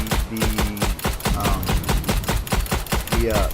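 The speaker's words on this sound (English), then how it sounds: "I found that the good way to do a machine gun is just pulsate the" A machine gun in Strange Brigade fires in short, rapid bursts, loud and close, each burst a quick rattling string of shots with brief gaps between them, over game sound.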